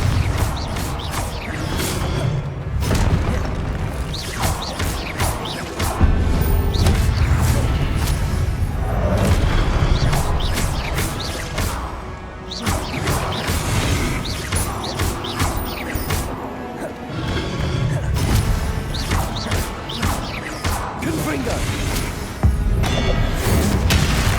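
Confringo spell explosions and combat in Hogwarts Legacy, a dense, loud stretch of repeated booms, crashes and whooshes layered over continuous game noise, with a voice briefly talking.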